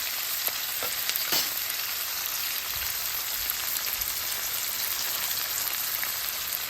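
Salted onions sauté in a pan for a drumstick curry, a close, even crackling sizzle with a few brief scrapes and taps of a stirring spoon, no speech.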